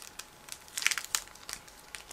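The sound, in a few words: opening a plastic bag of model kit decals and photo-etch parts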